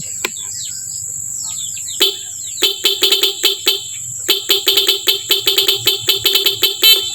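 A pop-up doll style musical car horn on its fifth tune blares a quick run of high, chirpy toots, speeding into a rapid rhythmic tune over a low background hum.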